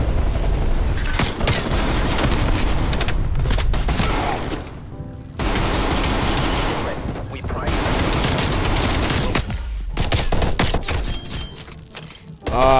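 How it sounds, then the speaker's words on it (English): Artillery strike explosions in Call of Duty Cold War: loud, continuous booming and rumbling blasts with crackling gunfire mixed in. The noise swells and dips over several seconds, and voices are heard beneath it. "Hostile artillery targeting active."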